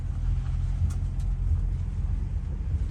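A 1971 Ford Maverick barn find rolls along at low speed, its engine a steady low rumble heard close from inside the car, with faint knocks and rattles over the drone.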